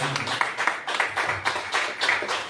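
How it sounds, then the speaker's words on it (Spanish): A church congregation clapping in steady applause during a live service, broadband and continuous, with some voices mixed underneath throughout. "Puedo darle un aplauso al Rey de Gloria."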